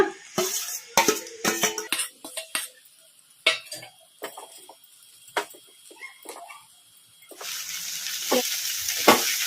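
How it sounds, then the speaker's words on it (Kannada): Egg fried rice sizzling and frying in a pan over a high flame, with repeated scraping and stirring strokes and clinks of a spatula against the pan, close and fairly loud, ending in a steady, louder sizzle. "ಹೈ ಫ್ಲೇಮಲ್ಲಿ ಇಟ್ಕೊಂಡು ಫ್ರೈ ಮಾಡ್ಕೋಬೇಕು ರೈಸ್."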